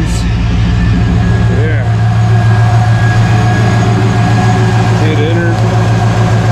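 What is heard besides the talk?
car engine idling with water pump, fan, high beams on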